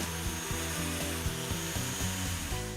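A fiberglass bow thruster tunnel tube is cut in a boat shop, a steady, loud grinding rasp of a power cutting tool running continuously and close.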